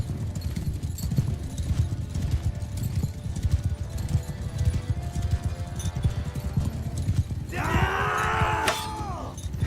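Horse hoofbeats in Mount & Blade II: Bannerlord, a steady clip-clop of galloping under a busy battle din, with a brief whinny-like tonal sweep near the end.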